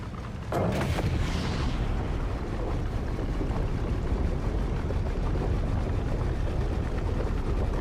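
A ship engine in Star Citizen runs with a steady, dense low rumble and a faint labored chugging, alone, after a brief sharper noise near the start.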